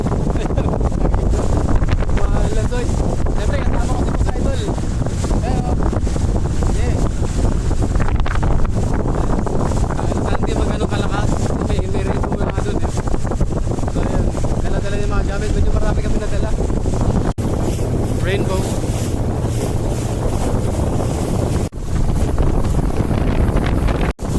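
Heavy wind buffets the microphone over the constant drone of a boat engine on Lake Buhi, with rain noise mixed into the roar throughout.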